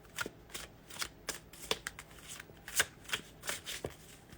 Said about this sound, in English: A little shuffle.